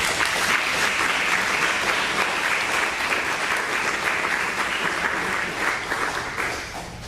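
Audience applause welcoming Jane Goldstein, a yoga teacher, at a Celebration Circle gathering on Bhakti Yoga: steady, dense clapping from a full room that holds loud throughout, then begins to taper in the final second.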